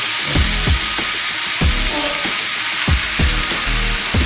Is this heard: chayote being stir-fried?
yes